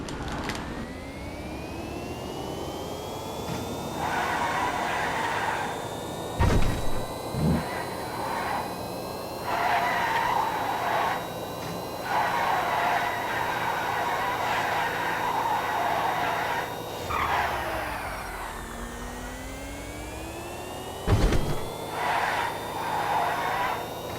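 An electric two-seater car on a test drive, skidding: a sustained, rising-and-falling electric whine with rough, scraping bursts that come and go, plus a few sharp thumps, loud and close throughout.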